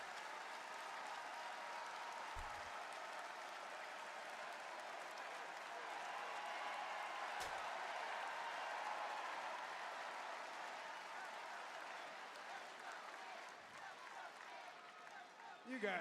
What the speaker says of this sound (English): You guys are a wild crowd tonight, huh?